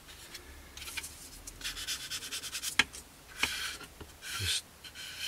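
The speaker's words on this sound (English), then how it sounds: "we're just again using the sponge section of the sander" Sponge sander rubbed gently across a plastic 1/48 scale model nacelle of a Kinetic Pucara kit, giving soft, close scratchy strokes in uneven bursts with small clicks and no talk.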